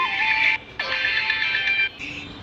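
A telephone rings with a loud electronic ringtone during a World Cup football match between England and Croatia, heard as two long steady tone bursts and the start of a third, alone and close.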